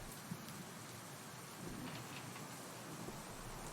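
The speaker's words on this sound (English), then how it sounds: "the rain doesn't look like it's dying down" Steady rain falls in the horror video game Silent Mementos, a soft, even hiss with faint scattered patters, quiet and continuous with no talk over it.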